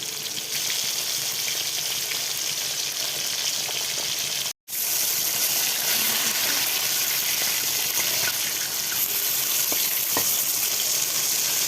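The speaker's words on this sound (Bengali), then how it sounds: "মাছটা ভাজা হতে থাকুক।" Fish frying in hot oil in a wok during preparation of a Bengali fish curry, a steady loud broadband sizzle that continues throughout, with a brief dropout near the middle and no talking.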